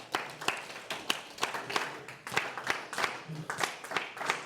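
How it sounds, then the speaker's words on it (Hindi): An audience at an education talk in a hotel hall claps for a speaker, scattered sharp hand claps in an uneven rhythm, fairly quiet and roomy, with faint murmuring beneath. "सिद्धार्थ राजशेखर जी के लिए एक जोरदार तालियां."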